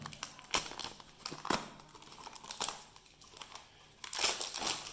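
Low-quality toilet paper from a small shop in Ethiopia being torn and crinkled open, a run of close, dry rustling and ripping bursts with short pauses between them, heard alone without talk.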